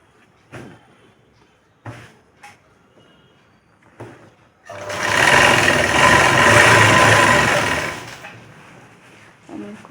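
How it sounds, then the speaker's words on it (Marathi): A sewing machine stitches a quarter-inch hem on a blouse sleeve in a steady, loud run of about four seconds, preceded by a few short knocks and handling sounds in a quiet room. "पाव इंचाची टीप मारायची आपल्याला"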